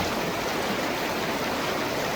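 A river flows loud and steady at a river crossing practice near Lander, Wyoming, a dense unbroken rush of water close by with no voices.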